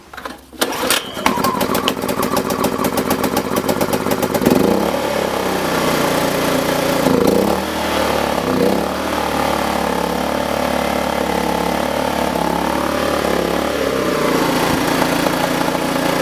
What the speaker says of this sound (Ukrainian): Як бачите, завівся з першого разу, дуже тихо працює